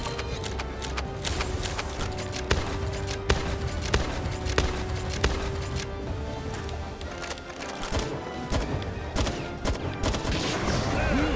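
Rapid assault rifle fire in the Palworld video game, sharp repeated shots crackling in quick bursts over a dense, busy game soundscape, with a voice talking over it.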